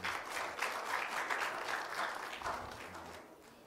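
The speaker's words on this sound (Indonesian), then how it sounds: "Aplaus buat Pak Edi Mulyadi." An audience at a healthcare conference on wound care claps warmly for a few seconds, a dense even patter of many hands that fades slightly at the end.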